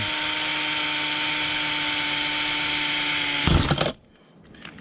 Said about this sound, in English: I find it easier, overall easier to drill it close to the rim.